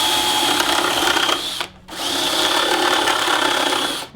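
A power drill whirs steadily at close range, cutting out briefly for a moment before spinning up again and running on.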